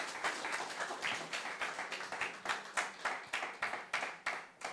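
Church congregation clapping during a Sunday service, a steady rhythmic applause of many hands with slightly irregular beats, moderately loud and filling the room, no voices over it.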